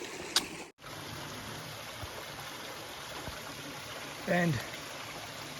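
A waterfall and creek on the Pinhoti Trail give a steady, close rushing wash of flowing water throughout, briefly cut out once, with a short spoken word near the end.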